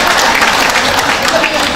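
A burst of clapping from a group, steady and fairly loud throughout, with some voices mixed in.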